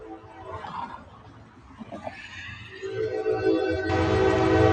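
A train passes close by outdoors, its low rumble building steadily before a loud sustained horn blast takes over near the end, drowning out the surroundings.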